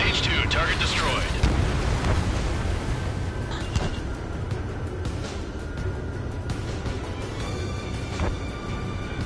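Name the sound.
missile explosion in Ace Combat 7 video game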